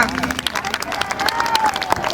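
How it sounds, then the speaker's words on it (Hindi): Students and guests at a school farewell party clap in a lively burst of applause, dense and fairly loud, with crowd voices and a faint tone mixed in. "स्वागत भी तो धमाकेदार तालियों के साथ होना"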